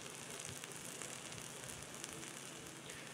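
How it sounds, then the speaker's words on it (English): Deer burgers cooking in a pan with beer and steam, a steady even sizzle and hiss with faint crackles, close and constant throughout. "we'll just let those finish off in beer and steam until they're done"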